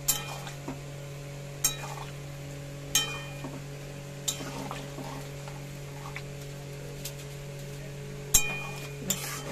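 A spoon stirs curry in a pan with sparse, evenly spaced taps and clinks over a steady low hum, with faint frying in the background.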